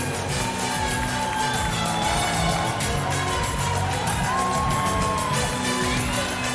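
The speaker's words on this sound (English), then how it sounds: "A round of applause for all 10 couples, please." A lively party crowd cheers, whoops and claps for ten dancing couples at a Christmas dance-competition event, a dense, loud, continuous roar of shouts and applause with music thumping underneath.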